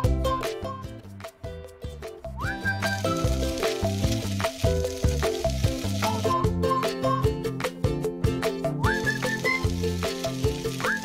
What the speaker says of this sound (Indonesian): Udah, langsung aja kita mau goreng